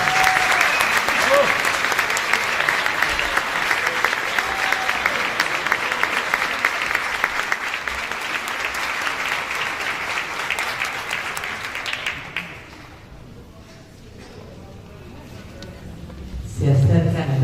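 An audience applauds at a choral festival in Río Gallegos, dense clapping sustained for about twelve seconds before thinning out and fading to quiet room noise, with a brief bump of sound near the end.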